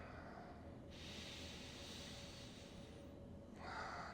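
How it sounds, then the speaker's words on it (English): Pranayama breathing exercise: a long, steady nasal inhale followed by a shorter hissing breath, close and quiet with faint background hum. "That's pranayama breathing."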